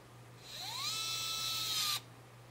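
A small electronic motion-controlled screwdriver spins up with a rising whine, holds a steady high hum for about a second, then stops abruptly; close and alone in a quiet room.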